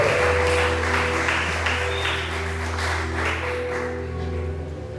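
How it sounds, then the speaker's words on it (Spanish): Steady applause from a church congregation fills the room during an evangelistic sermon, sustained for several seconds over a low droning musical backdrop. "Dale un fuerte aplauso al que vive y reina."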